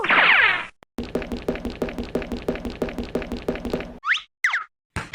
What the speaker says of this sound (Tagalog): Mga kumakatok pero di nagsasalita kung sino.